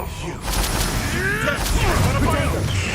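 Confringo fire spell blasts in Hogwarts Legacy, a loud crackling burst with booming impacts over game music, with a voice talking over it.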